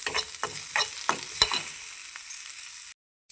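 Onion and garlic roast on low heat in a pan, several quick stirring scrapes over a soft sizzle that fades toward a near-silent end.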